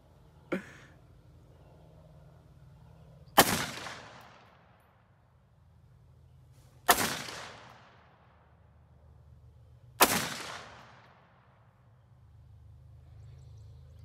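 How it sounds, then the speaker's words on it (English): Gunshots fired at a log outdoors: three sharp loud cracks a few seconds apart, each with a short echoing tail, preceded by a smaller faint click, with no talking. "Shoot the log."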